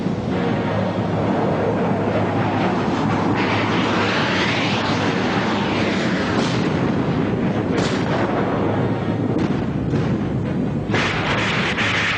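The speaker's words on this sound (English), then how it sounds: "A daylight naval assault along the Baltic coast of West Germany, backed up by heavy Soviet bombing." Heavy Soviet bombing during a daylight naval assault on the Baltic coast, a dense, continuous roar of explosions and rumbling blasts with swells of louder detonations, no voices.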